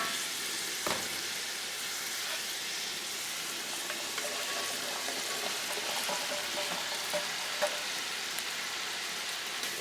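Green beans sautéing with tomato paste in a pan make a soft, even crackling sizzle, low in level, with scattered faint pops and occasional light stirring.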